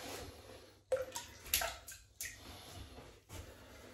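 A shaving brush is wetted with warm to hot water before lathering a shave soap, giving brief splashes, drips and squishy wet sounds at close range, with a few louder bursts among quieter gaps.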